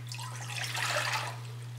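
Spring water pours into a saucepan in a steady, soft splash that swells briefly in the middle, with a constant low electrical hum underneath.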